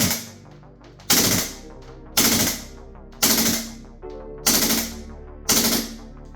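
A WE SCAR-L gas blowback airsoft rifle fires on full auto in about six sharp, loud bursts, spaced roughly a second apart, each with a crisp rattling attack that fades quickly.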